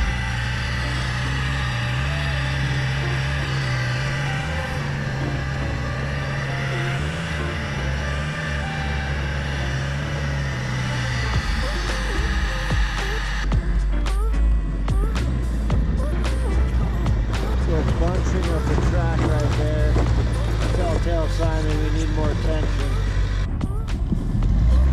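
A Bombardier BR100 snowcat is driven on its tracks, its engine rumbling loud and steady with track clatter throughout, while people talk over it.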